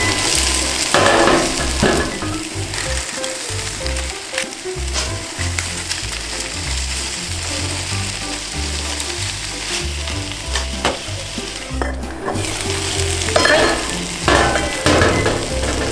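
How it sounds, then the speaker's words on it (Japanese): Pieces of Pacific saury sizzle and fry steadily in a frying pan, browning on both sides, with a dense continuous crackle and a few clinks of utensils against the pan. "これで両面ちょっと焼き色がつくまで焼いていきます"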